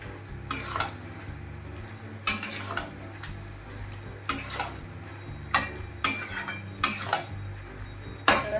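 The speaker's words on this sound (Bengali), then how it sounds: "এবার মাংসটা দিয়ে ভালো করে কষাবো।" Mutton being sautéed in a pan for rogan josh, with a metal spoon scraping and clanking against the pan in irregular strokes over a quiet background sizzle, close and distinct with no talking.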